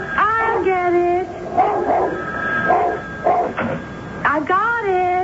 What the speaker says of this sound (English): Every time the phone rang, he barked and barked and barked till Joan answered it